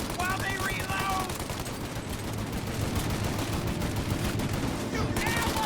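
Shootout in Mafia: Definitive Edition: dense bursts of gunfire crackle continuously in a rapid, overlapping fusillade, with voices shouting over the shots at the start and end.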